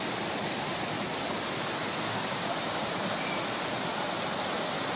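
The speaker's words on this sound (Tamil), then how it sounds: "இந்த தண்ணி இங்கே ஃபால்ஸ் மாதிரி விழுகுதுங்க." Water pouring down like a small waterfall along the Sabarimala forest route makes a steady, dense rushing roar, close and unbroken for the whole stretch.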